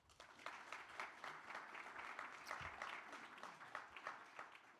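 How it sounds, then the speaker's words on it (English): A seminar audience at a public film funding talk applauds a speaker being introduced, fairly faint but steady clapping from a modest crowd, rising after a brief quiet start and continuing evenly. "may I ask you big applause for Tomas Eskilsson"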